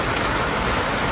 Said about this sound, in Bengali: ঝড় হচ্ছে না, হচ্ছে বেশি বৃষ্টি